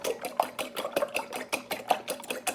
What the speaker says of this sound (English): now I'm going to mix my eggs up